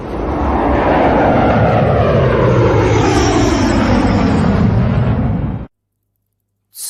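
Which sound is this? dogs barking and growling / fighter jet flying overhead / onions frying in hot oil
fighter jet flying overhead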